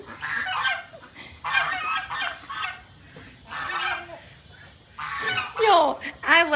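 Geese honk in repeated loud, harsh bursts, some close and some overlapping, with short pauses between calls.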